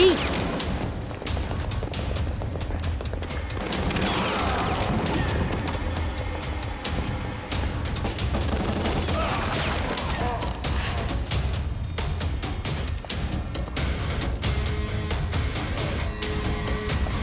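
Gunfire in a London action film: dense bursts of shots and impacts crackle over a dramatic music score for the whole stretch, with voices mixed in.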